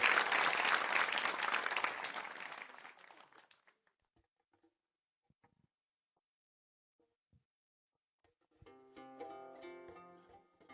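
A TV studio audience bursts into loud, dense applause that fades out over a few seconds, leaving near silence before music begins.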